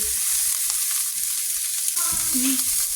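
Ginger and garlic sizzle and crackle in a hot pan while being stirred, a steady close frying hiss with a brief utensil scrape near the end.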